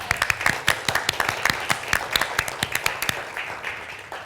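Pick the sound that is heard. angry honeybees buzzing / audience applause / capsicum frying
audience applause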